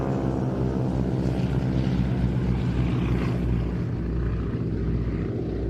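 A propeller aircraft flies overhead at an air show, its engine a loud, steady, throbbing drone throughout.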